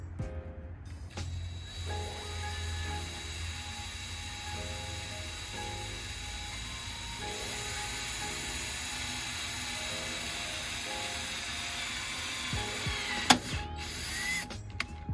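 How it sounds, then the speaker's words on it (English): A steady mechanical whir of a drill running a 3/16 bit continuously during a gas strut install on a 2021 Toyota Tacoma TRD Pro, with a faint grinding edge and a sharp click near the end, close and moderately loud. "next we're going to use the drill, and we're just going to drill out the part"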